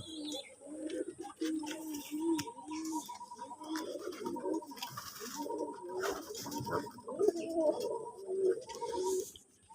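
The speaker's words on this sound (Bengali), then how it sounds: "আপনার আমার কবুতরের লফট আপনাদের আমি দেখাচ্ছি কবুতরগুলো দেখেন" Pigeons coo repeatedly in a loft, their soft rhythmic calls overlapping close by with a few brighter chirps and light shuffling, steady across the clip.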